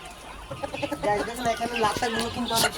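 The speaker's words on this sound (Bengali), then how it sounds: "এখন আমি এখানে মুরগিগুলোকে পানি দিয়ে দেব" Chickens on a farm cluck in quick, repeated bursts while being given water, close and fairly loud, with more clucking and scratchy movement following and a little background talk.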